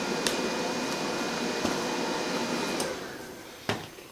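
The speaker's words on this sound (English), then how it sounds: "Power this off. Takes it a while, fan's cooling it down." The cooling fan of a Sefaspe MIG135E welder keeps whirring steadily after the power is switched off, a close, even airy hum with a faint whine, easing slightly near the end amid a few small clicks.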